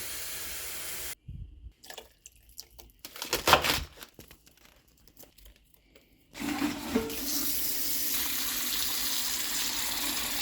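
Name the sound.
water filling a stock pot from a tap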